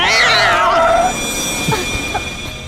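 A cat meows loudly in front of a car, one drawn-out wailing cry that trails off, followed by softer thumps and background noise.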